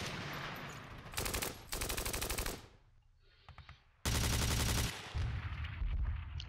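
Game audio from a Steel Panthers battle set in the Iran-Iraq war: rapid machine-gun bursts rattle in several sharp, dense volleys separated by brief lulls, loud and close.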